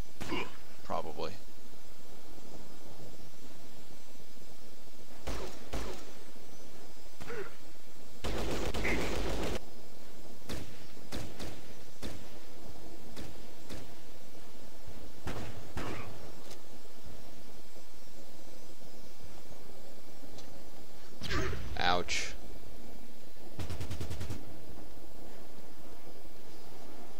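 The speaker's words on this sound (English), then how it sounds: "Martha just got winged by a minigun." Minigun fire in Fallout Tactics comes as scattered short bursts and single cracks, with two heavier clusters of rapid shots standing out among quieter gaps, under frequent talking.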